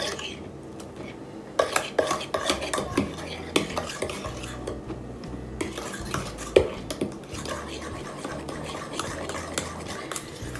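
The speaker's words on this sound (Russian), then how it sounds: "сейчас мы добавляем нужное количество муки и замесим тесто" Donut dough being mixed in a bowl with flour added: irregular clinks and scrapes of a utensil against the dish, close and fairly loud, in bursts with quieter pauses and no talking.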